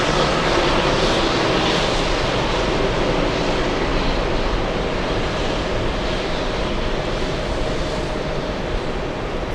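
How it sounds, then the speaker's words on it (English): Boeing 747 jet engines lining up on a runway at JFK airport, a steady broad roar that holds evenly at a distance with no one speaking. "Alright, 747 is lining up."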